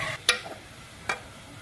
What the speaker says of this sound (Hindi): प्याज डाल के हम इसे अच्छे से ब्राउन कर लेंगे।